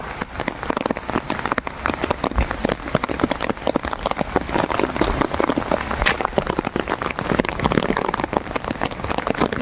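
Heavy rain pours steadily and loudly at night, a dense continuous wash of drops pattering on surfaces with scattered sharper splats, and no voices heard.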